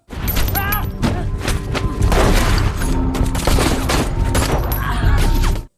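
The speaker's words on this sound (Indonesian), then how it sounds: "Chico dan Siguenza tertembak dan Barroso terus menghajar Chico" Dense gunfire fills a film action scene, with overlapping shots, thuds and booms running continuously and loudly from start to finish, joined by brief shouts or voices.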